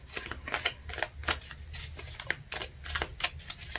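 An oracle card drawn from a deck: quick papery flicks and soft rustling shuffles in a rapid, uneven rhythm, quiet and close.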